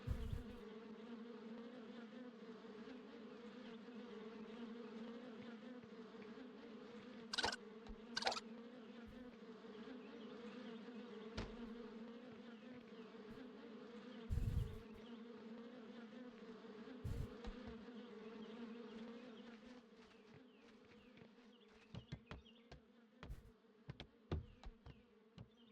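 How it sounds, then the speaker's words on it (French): Bees buzz in the video game Trash Day, a steady, continuous drone throughout, with a few sharper clicks and knocks breaking through toward the end. "J'entends des abeilles, je crois."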